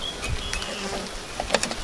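Honey bees swarm in a dense, steady buzz as they are shaken down out of a beginner's installation package, with a few louder bursts of activity near the end.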